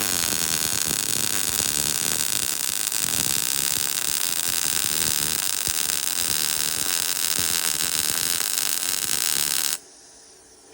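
An Arccaptain MIG205mp welder lays a MIG bead with a weave, giving a loud, steady, close crackling buzz that runs unbroken until the arc cuts off abruptly just before the end.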